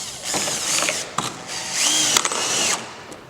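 A power drill drives fasteners into the back flange of a metal roofing hip and ridge cap, with short whirring bursts, clicks and a rising whine as a screw seats, close up.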